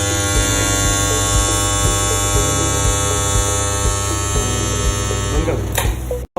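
An Electroweld strip ring butt welding machine joins a 16 mm diameter ring: a loud steady electrical buzz and hum with repeating pulses, ending in a brief bright burst before cutting off.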